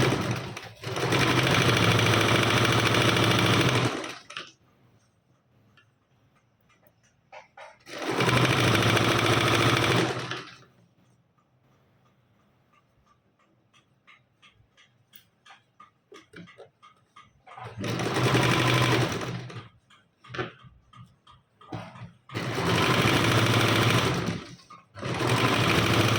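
Sewing machine stitching the fitting seams of a frill dress, running in four loud sustained bursts of several seconds each, separated by quiet pauses with faint clicks and handling noise.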